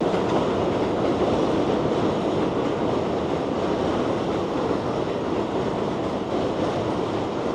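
A New York subway train rolls into Queens Plaza station with a steady, loud rumbling roar of wheels on track and faint rhythmic clatter, continuous throughout and close by.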